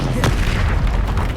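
A deep, booming Confringo spell blast in Hogwarts Legacy hits loud and close, with a sharp onset and a rumbling tail.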